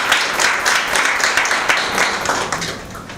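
Lively audience applause at the launch of the State of World Population Report 2023, many hands clapping close and fairly loud, holding steady before easing off slightly at the end.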